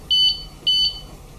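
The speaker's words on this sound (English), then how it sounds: "If continue tamper it, the alarm definitely will sound." A Top Secure TS021 alarm padlock, tampered with on a window iron grating, sounds two loud, shrill piercing beeps in quick succession, each about a fifth of a second, alone against quiet background.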